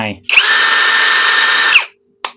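A Masaru SCDH-125 cordless drill runs its motor in one steady, loud, close whir lasting about a second and a half, then stops, followed by a brief short burst.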